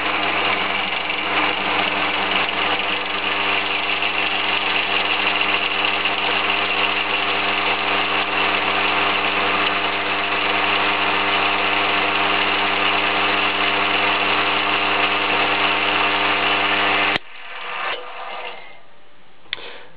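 A drill press motor hums loud and steady with a buzzing drone while spinning acrylic parts to weld them, then cuts off abruptly near the end, leaving faint handling noises.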